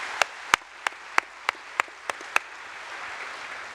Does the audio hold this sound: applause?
yes